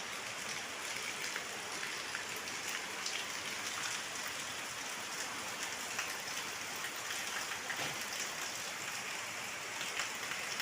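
Steady rain falling, a soft constant patter with scattered drops, even and unbroken throughout, with no voices.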